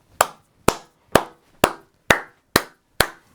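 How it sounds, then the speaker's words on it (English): A single person claps seven times, loud and close, at an even pace of about two claps per second, each one sharp and dry with a quick fade and silence between. "I do apologize if that clap was too loud through the speaker"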